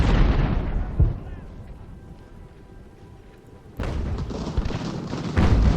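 Cannon artillery fire on a battlefield in the video game Ultimate General: Revolution, heavy booming blasts with rumbling, dense volleys returning after a quieter lull, someone talking over it.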